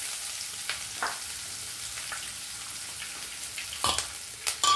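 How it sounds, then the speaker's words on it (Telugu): Chopped onion and green chilli pieces fry in a tempering of oil with asafoetida for a snake gourd and moong dal tomato curry, making a low, steady sizzle broken by a few sharp stirring scrapes and clinks. "ఇప్పుడు ఈ ఉల్లిపాయ ముక్కలు పచ్చిమిరపకాయ ముక్కలు వేసేద్దామండి"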